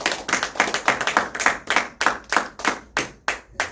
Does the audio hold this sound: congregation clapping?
yes